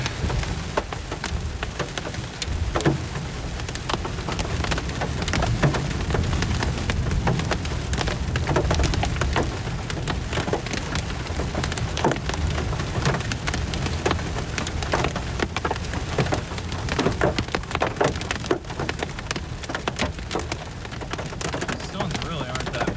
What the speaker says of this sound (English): The fact that we're getting this kind of hail so far north on this storm